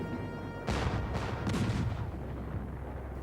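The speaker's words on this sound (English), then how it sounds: "The first shot was a mortar round that arced slowly over the fort and exploded in the air." Heavy mortar and cannon fire at a coastal brick fort echoes in a series of deep, rolling booms over a constant rumbling background, with no voices.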